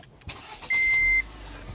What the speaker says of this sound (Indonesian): saya akan starter mobil ini karena ini lumayan panas di luar